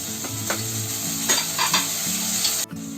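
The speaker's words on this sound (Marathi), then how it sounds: "आता मिरची थोडी फ्राय करते 2-3 सेकंड" Chopped onion, green chili and tomato frying in hot oil in a pan, a steady sizzle with a few stirring scrapes, close up, cut off abruptly near the end.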